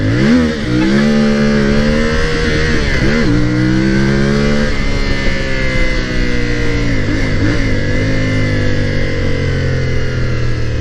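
An MT450 motorcycle engine drones continuously up close while riding, its pitch rising and falling as it revs and shifts through gears.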